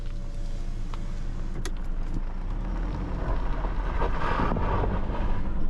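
A 2024 Toyota HiLux GR Sport turning in H4 four-wheel drive, its drivetrain binding as the front and rear axles stay locked together. The result is a low, strained mechanical rumble that builds with faint creaks and clunks near the end.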